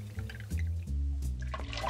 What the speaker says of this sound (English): pour it into the glass.